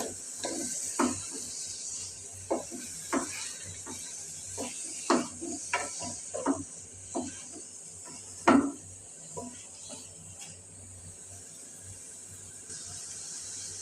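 A spoon scrapes and clinks intermittently against a pot while vegetable curry with potatoes and chickpea dal fries over a low, steady sizzle, the stirring strokes irregular and fairly close.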